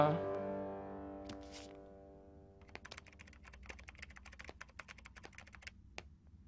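A computer keyboard is typed on while booking a visa slot: soft tonal music fades, then a rapid, irregular run of close, crisp keystrokes clicks steadily for several seconds.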